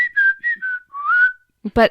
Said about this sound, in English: they use that specific whistle from SpongeBob's theme song as a part of their show